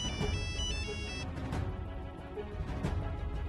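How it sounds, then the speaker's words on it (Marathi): A phone ringtone plays a melodic electronic tune, then stops, leaving low background noise and a few soft clicks. "अरे समाधान हा? घे की फोन"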